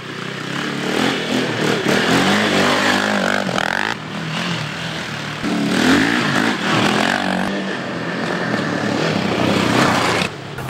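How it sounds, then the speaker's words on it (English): A brand new KTM 450 dirt bike engine revs and roars on a trail ride, the loud rasping note rising and falling with throttle changes over about ten seconds, close by and without talk. "hooking me up with a brand new KTM 450. I'm gonna go test it out"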